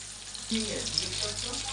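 Fish fries crisp in hot oil, a steady sizzling hiss that swells into a louder spatter about halfway through, with a faint low hum underneath.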